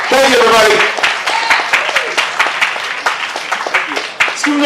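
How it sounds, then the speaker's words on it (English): Applause and clapping ring out from the audience at an outdoor Asian festival welcome ceremony, a loud, dense patter of hands mixed with voices and talking throughout. "Let's give another round of applause."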